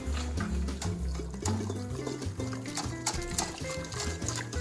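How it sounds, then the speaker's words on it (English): Bread batter is whisked by hand in a bowl, giving fast, irregular wet clattering and sloshing that runs throughout, close and fairly quiet. "And then you're just gonna mix this with a whisk."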